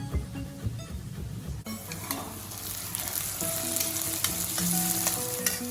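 Sliced button mushrooms sizzling and frying in a kadai, with a loud steady crackle, a few clinks of a utensil against the pan, and stirring noises throughout.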